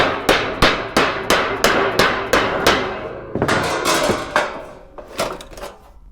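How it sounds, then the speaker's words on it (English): Sharp metallic hammer blows strike an aluminum body panel on a rotary RX7 drift kart, first a steady run of about ten evenly spaced ringing hits, then a looser, quicker cluster of taps, loud and close. "Give it a hammer."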